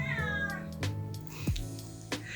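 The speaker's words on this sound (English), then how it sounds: "Don't mind my cat, she's extremely blind and deaf," A blind, deaf house cat meows loudly, with a long rising yowl at the start followed by shorter cries and sharp thumps, close and indoors.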